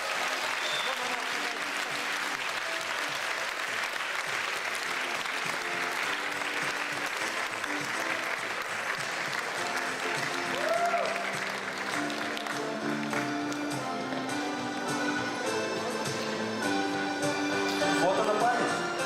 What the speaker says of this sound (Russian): Аплодируем, ребята, аплодируем!